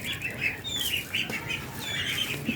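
Free-range desi chickens kept together with ducks, giving soft, repeated clucks and small chirps at close range over a low, busy farmyard background, with no talk.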